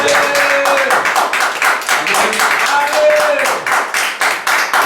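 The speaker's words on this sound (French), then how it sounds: "Je veux une acclamation plus forte." A church congregation clapping in a steady, rhythmic beat, loud and close, with voices mixed in under the claps.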